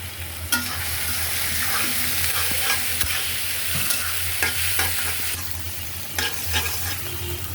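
Chopped tomato and onion stirred and fried in a pan while noodles are being made, a steady close sizzle with repeated scraping strokes of a spoon throughout, no talking.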